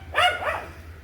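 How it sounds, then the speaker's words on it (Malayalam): A single dog barks out in an open field on a quiet evening, one or two sharp yelps close together and then fading, with a low steady hum underneath. "അവിടെ പാടം ഒരുത്തം കിടന്ന് കുരയ്ക്കുന്നുണ്ട്."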